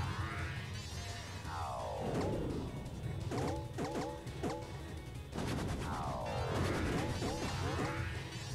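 Bomb blasts from the Bomberman video game on Dreamcast, heard as repeated loud crashing bursts with sweeping whooshes and rapid clattering game effects throughout.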